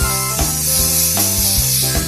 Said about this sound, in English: Spray the pan first.